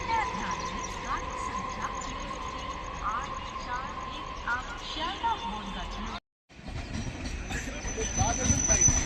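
A Sealdah–Ranaghat local train rolls past at Dumdum Junction, a steady loud rumble of wagons with a sustained hum and scattered clatter, a brief dropout midway, then continuing close by with someone talking over it.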